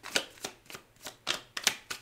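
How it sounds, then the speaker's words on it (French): A tarot card drawn from the deck: a run of six or seven crisp, close papery flicks and slides, evenly spaced about every third of a second, quiet and with no voice over them. "je vais vous tirer une petite carte de fin"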